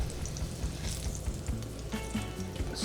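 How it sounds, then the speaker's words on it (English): Venison filet sears in a hot pan over medium heat, giving a steady, close crackling sizzle with scattered pops throughout. "You want to sear the meat to keep the natural juices in"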